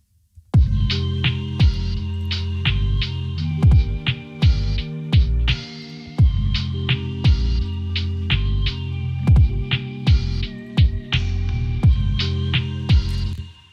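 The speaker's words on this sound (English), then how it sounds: "Listen to the flute and listen to the hi-hats in particular," A mellow looped beat with a soft flute-like melody, steady ticking hi-hats and a regular snare, playing loud and unbroken with no voices.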